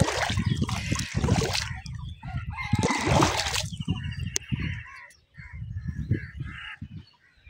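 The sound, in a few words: ducks calling near water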